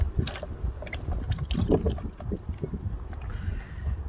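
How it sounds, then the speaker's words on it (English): Water running and splashing over an engine piston as softened carbon buildup is rinsed off, a continuous close, uneven gurgling spatter with small surges and no talking. "Let me just rinse that off."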